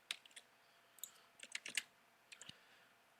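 A computer keyboard clicks in scattered bursts of keystrokes alongside occasional mouse clicks, faint and close in a quiet room.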